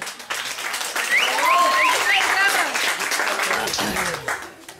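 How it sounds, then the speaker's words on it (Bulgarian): Applause rises at a Bulgarian graduation ball while voices and whoops carry over it, a lively crowd clapping steadily before fading at the end. "Аплодисменти."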